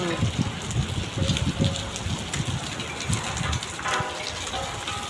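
Hailstones pelt a farm and its crops during a storm, a dense, steady patter with heavier thuds close by, and a voice speaking over it.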